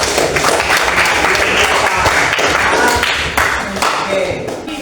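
Classmates clap after a group presentation in a university class, a loud, dense burst of many hands patting at a steady level and easing slightly toward the end, with voices murmuring underneath.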